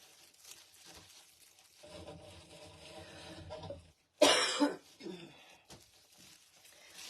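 A single harsh, loud cough bursts out close to the microphone after quieter shuffling sounds, followed by a brief rasp.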